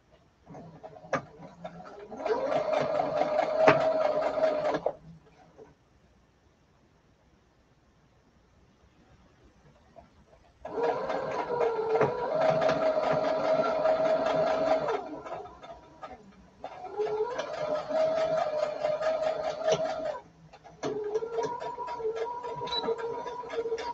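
Sewing machine stitching along the edge of a lace envelope, running in three steady motorized bursts of a few seconds each separated by quiet pauses, fairly close and alone without talk.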